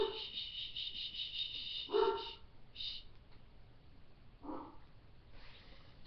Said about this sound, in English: And my dogs are barking again.